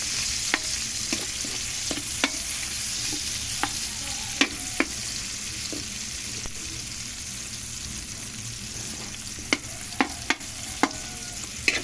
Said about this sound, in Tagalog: Ano yung mantika guys, kaya ilagay na natin yung ating ricado.